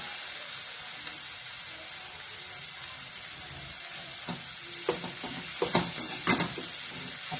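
Grated potato with peas and chillies sautéing in a pan on a gas flame, a soft steady sizzle and hiss, joined later by a few scraping stirs and light clinks.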